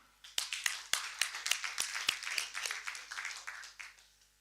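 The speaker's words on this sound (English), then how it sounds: "So round of applause for Iman." Audience applause at an AfCFTA Digital Trade Forum masterclass: a small group claps for about four seconds in distinct, fairly sparse claps that blend into a brief patter before fading.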